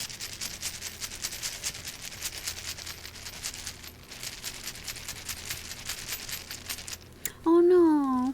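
A bunch of keys jingles near the microphone in a continuous bright metallic rattle, steady for several seconds before a voice briefly cuts in at the end.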